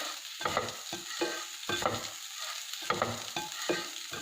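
A spoon stirs lemon poha mixture in a pan, giving a rhythmic run of scraping, rustling strokes with brief pauses between them, close and moderately loud over a faint sizzle.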